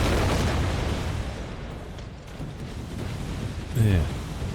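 Mine explosions in the Empire: Total War strategy game give a rumbling, booming burst that fades out over a few seconds, followed by quieter battle noise and a brief voice near the end.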